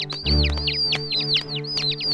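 A small bird in an animated cartoon chirps in quick, repeated high tweets over a low musical bed, close and fairly loud, with several bursts across the short span.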